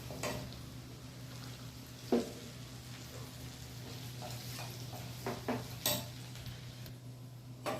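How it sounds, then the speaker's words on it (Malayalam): Chili powder stirred in a pan for iron tamarind pickle, a faint low sizzle under a constant low hum, punctuated by several sharp spoon clinks and scrapes against the metal pan. "ഇത് നമുക്ക് കരിയാതെ ഇളക്കാം"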